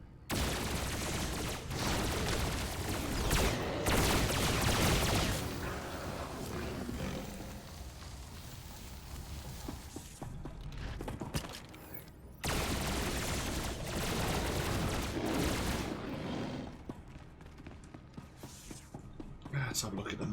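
Heavy bursts of cannon fire and explosions during a Star Wars: The Old Republic battle, loud sustained volleys rolling in two long waves with a short lull between them, dense and booming with no talk over it.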